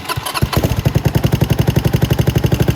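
A Venom X22GT 250cc motorcycle engine cranks and catches, then settles into a steady, loud idle with an even, rapid chugging pulse.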